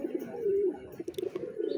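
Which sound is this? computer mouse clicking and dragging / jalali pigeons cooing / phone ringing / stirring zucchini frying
jalali pigeons cooing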